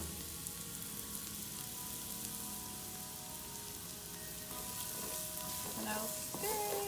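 Thawed food spread in a pan frying in a generous amount of olive oil, a steady hiss of sizzling with light spattering and a few faint clinks toward the end.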